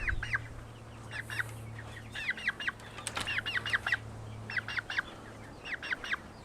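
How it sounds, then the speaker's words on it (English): Several chickens on a farm property cluck in quick repeated bursts, rising and falling bright calls scattered across the scene at moderate distance, with no talking over them. "watch out, bird."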